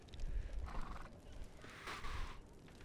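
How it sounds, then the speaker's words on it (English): Horse in the Diablo 4 video game, a couple of soft whinnying calls and light hoof sounds, fairly faint and alone without talk. "do you want to see this horse?"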